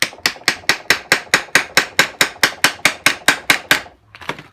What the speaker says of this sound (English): You don't need to do a ton of pounding. It's just a very light wrapping.